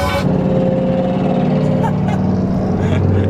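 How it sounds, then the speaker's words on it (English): A tuned Nissan 370Z with a loud aftermarket exhaust rumbles steadily at idle or low speed, a loose pipe rattling and knocking against the subframe beneath the continuous drone, with faint traffic around. "my exhaust is banging on the subframe. It is rattling."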